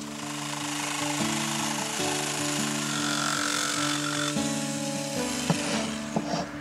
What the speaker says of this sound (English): Measure and cut out another piece the size of the hole.